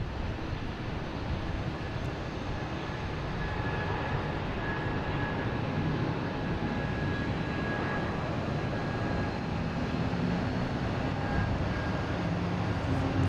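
JetBlue Airbus A220 departing Boston Logan on a flight to Raleigh-Durham, heard as a steady, broad jet engine roar that holds at an even loudness throughout, with no voices over it.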